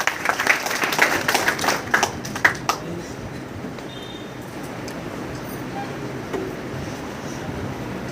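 An audience at a freshers' party claps in a warm welcome, a loud burst of applause for the first few seconds that quickly thins out and fades into a low, steady room hum.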